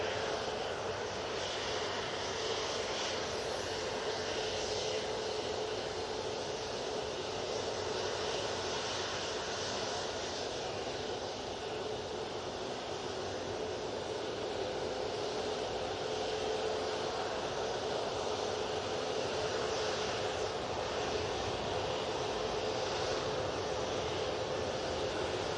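Aer Lingus airliner taxiing at Manchester Airport, a faint, steady engine whine and hiss continuing unbroken from a distance, with a thin tonal line running through it.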